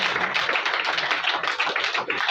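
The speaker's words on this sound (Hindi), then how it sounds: "एक बार रिदम के लिए जोरदार एक बार तालियां बजाएं" An audience at a book launch event claps in sustained, dense applause, loud and steady throughout with no voices over it.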